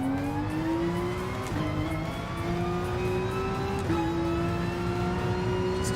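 A race car in a racing video game is driven hard around Autodrome Lago Maggiore Center during FIA Manufacturer's Cup practice, its engine screaming steadily and climbing in pitch, with two quick upshifts breaking the continuous whine.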